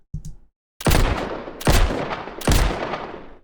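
Three heavy, booming gunshot-like blasts made from layered swoosh sounds ring out at even intervals, each with a long decaying tail, after a short rustling swish.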